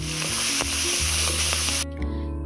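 Nigella seeds, a dried red chili, slit green chilies and chopped onion hit hot oil in a pan, giving a loud, steady sizzle with a few clinks of stirring that suddenly softens near the end.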